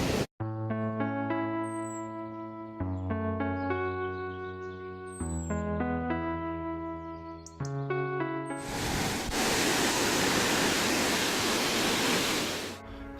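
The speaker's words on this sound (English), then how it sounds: "we're gonna see the waterfall again" Waterfall at El Pailon del Diablo, Ecuador, heard as a loud, steady, broadband roar of rushing water that takes over after a stretch of music and fills the last few seconds.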